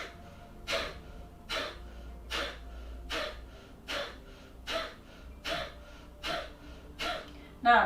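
A series of about ten sharp, forceful breaths blown out through the nose, evenly spaced under a second apart, close and distinct with quiet between.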